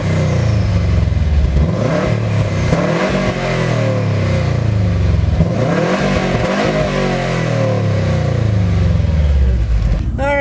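A 2005 Subaru Legacy GT engine firing up and pulling away, a loud, continuous engine note rising and falling with revs, close and sustained throughout.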